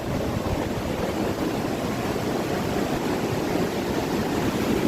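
Cold mountain stream water at Kedarnath rushes continuously nearby, a loud, steady broadband roar that fills the whole stretch without pause and without voices.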